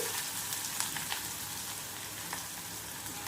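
Onions and broken dry red chillies fry in hot oil, giving a steady close crackling sizzle with scattered brighter pops, no voices.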